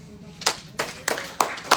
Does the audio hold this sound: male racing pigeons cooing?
no